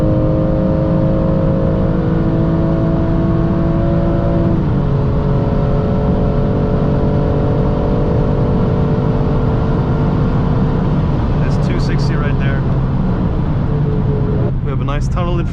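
A 2020 BMW M2 Competition driving through a tunnel, its engine a steady loud drone with shifting pitch from inside the cabin, with brief interruptions near the end.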